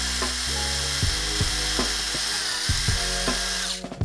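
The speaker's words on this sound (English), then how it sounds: "So go ahead and drill that hole." Power drill boring a pilot hole into a GameCube plastic case, a loud continuous whine whose pitch stutters and repeatedly drops as the bit bites, then cuts off at the end.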